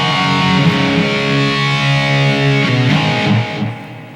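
An electric guitar played through a BOSS eBand JS-10 with only the amp's gain and no EQ, a distorted chordal riff with sustained notes lasting about four seconds, fading out at the end.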